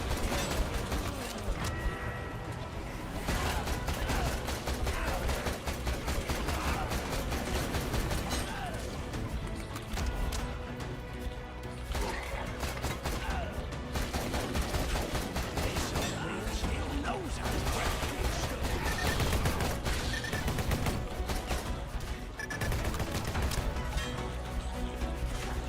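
In the boomer shooter Bloodshed, an AK assault rifle fires in dense continuous bursts against a chaotic wall of game effects and crashes, loud and relentless, with a voice talking over it at times.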